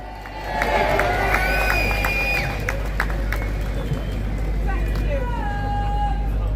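Crowd at an outdoor political rally cheers and applauds steadily for a woman being introduced as she takes the stage, a continuous wash of voices, whistles and claps with occasional shouts rising above the roar.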